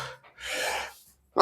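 A single sharp sneeze from someone with hay fever, preceded by a short breathy inhale, close and fairly loud, followed by a brief sharp sound at the end.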